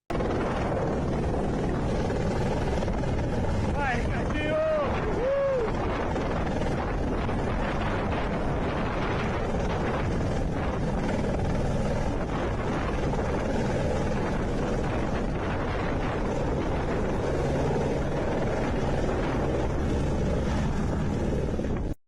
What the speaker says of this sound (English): so a helicopter was sent